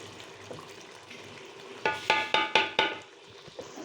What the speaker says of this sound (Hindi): अब मैं डालूंगी इसमें घी।